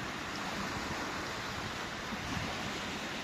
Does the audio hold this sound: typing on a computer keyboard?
no